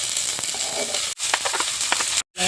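Onions fry in oil in a wok during home cooking, giving a close, steady sizzle with a brief gap midway and a short silence near the end.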